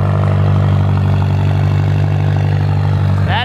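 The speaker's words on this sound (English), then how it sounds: "That is a fab speed exhaust on a McLaren 570S." A McLaren 570S fitted with a Fabspeed exhaust runs in a steady, loud, close drone after startup, holding a constant low tone throughout with no talking over it.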